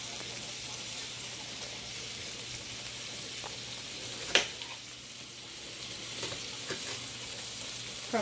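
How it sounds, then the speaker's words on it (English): Onions sauté in butter in a pan for smothered pork chops, a soft steady sizzle running continuously at low level with a few faint clinks and pops. "while I'm in my onion saute. In the butter."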